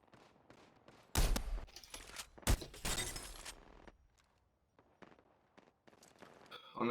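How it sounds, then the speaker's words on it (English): Bursts of AK gunfire in the Apex Legends video game, two loud close volleys in quick succession followed by fainter scattered shots and clatter. "AK fire right now."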